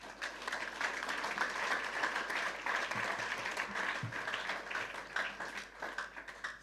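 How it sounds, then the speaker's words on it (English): Sustained applause from a large audience of students at a youth entrepreneurship and leadership event in Ghana, a dense steady clapping that continues evenly throughout and tapers slightly near the end. "Clap for yourself."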